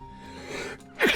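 A single sharp sneeze bursts out near the end, preceded by a brief indrawn breath, loud and close.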